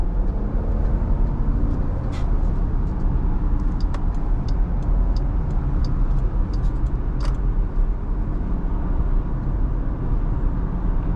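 A 2020 Jeep Grand Cherokee Limited X with a Hemi V8 cruising on the road, a steady low engine and road rumble heard from inside the cabin, subdued with faint clicks over it.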